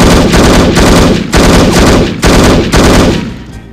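AK rifle fire in the video game No One Lives Forever, loud, close full-auto bursts with short gaps between them, about four bursts fading at the end.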